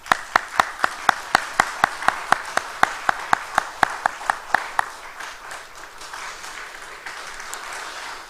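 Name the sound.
church congregation applauding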